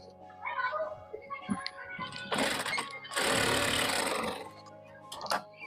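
Sewing machine running in bursts while stitching along a folded fabric strip on a lehenga made from a saree, with a loud sustained run in the middle and softer mechanical sounds around it.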